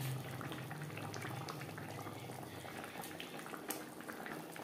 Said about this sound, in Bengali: গ্রেভির সাথে মাছ বেশ ভালো করে রান্না করে নেব।